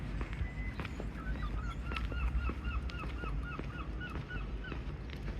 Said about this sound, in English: A lone seagull